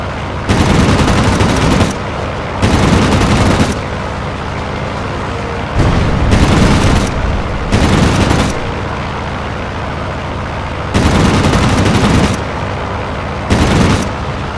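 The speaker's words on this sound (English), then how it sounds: "I should probably pull out of here, because I'm getting shot at pretty good" Loud bursts of rapid automatic gunfire in flight-combat video game action, firing in several separate volleys a second or two long with brief gaps of engine drone between them.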